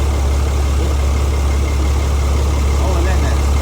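Car engine idling steadily right after its first startup following a major engine failure, a constant low rumble that runs unbroken throughout and stays close and loud, with no voices heard.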